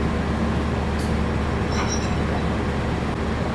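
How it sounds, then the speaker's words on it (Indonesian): The Argo Muria passenger train departs Gambir station in Jakarta, a low steady rumble and hum of rolling stock with a brief high squeal midway, heard from the platform at moderate distance. "kereta api Argo Muria berangkat dari stasiun Gambir."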